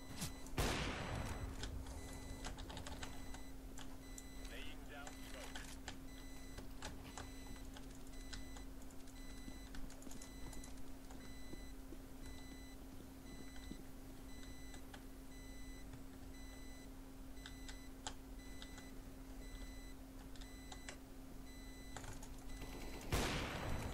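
Counter-Strike: Global Offensive match audio with scattered gunshots and short bursts of gunfire over a steady electronic hum and game ambience, moderately loud, with no talking.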